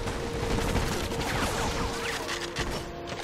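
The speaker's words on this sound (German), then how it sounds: "Wie ein teurer Actionfilm, so lebt auch dieser Shooter in erster Linie von krachenden Explosionen und dem Getöse begleitender Soundeffekte" Explosions and gunfire in the shooter video game Black, a dense, loud barrage of crashing blasts, rapid shots and debris clatter layered over a steady hum, with no one talking.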